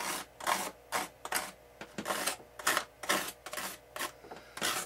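Knife blade scoring cuts into the painted tube of an F-86 RC airplane build, a series of quiet rhythmic scraping rasps, about a dozen short strokes in close succession, near and soft.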